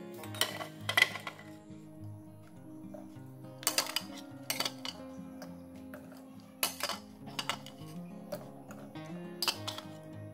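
Eggs go one by one into a pot of salted vinegar water, making a few sharp, close clinks and taps in irregular bursts with quiet pauses between them.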